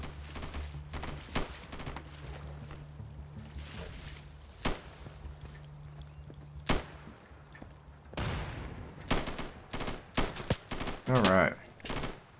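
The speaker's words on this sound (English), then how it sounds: "Somebody's shooting at me." Gunfire in the tactical shooter Insurgency: rapid bursts and single sharp shots crack out irregularly, some close and loud, others more distant, with a denser volley near the end.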